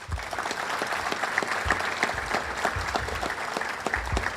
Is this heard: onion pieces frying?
no